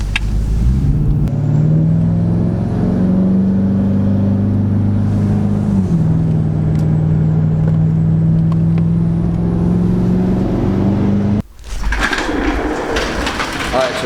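A 6.7 Powerstroke diesel pickup truck engine drones hard and steadily under hard acceleration, its pitch rising and falling through gear shifts, before a sudden break and rougher noise.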